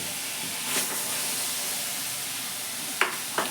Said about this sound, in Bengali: আগে চিংড়ি মাছগুলোকে একটু ভালো করে ভেজে নেব